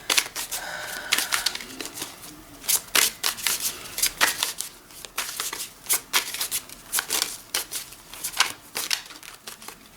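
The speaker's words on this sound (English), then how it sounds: "Let me shuffle these cards." Tarot cards being shuffled by hand in a steady run of crisp, riffling flutters and soft slaps, close and fairly loud, with no talking.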